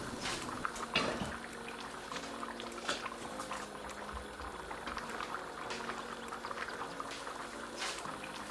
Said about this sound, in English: Lid on, and we leave to slow cook for about 2 hours.